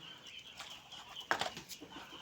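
Turkeys with their chicks let out into an open field give faint, scattered clucks and peeps, with a brief louder cluster of calls in the middle, heard from a short distance.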